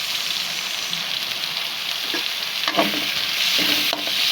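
Onion is stir-fried with garlic in a pan for adobo, giving a loud, steady sizzle with scraping stirring strokes near the end.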